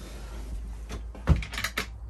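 Drawers in a 2021 Frankia Platin I8400 QD luxury motorhome slide and shut, giving a few short knocks and soft clunks close by, with a sharper bump near the middle and quick rattles toward the end.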